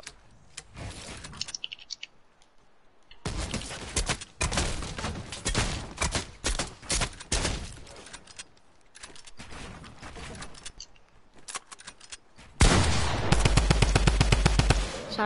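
Gunfire in a shooter video game: bursts of rapid shots and single cracks in irregular clusters, loud and close, ending in a sustained heavy volley, with no clear talk over it.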